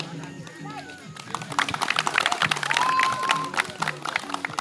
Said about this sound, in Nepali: सम्पूर्णले ताली बजाएर साथ दिनुहोला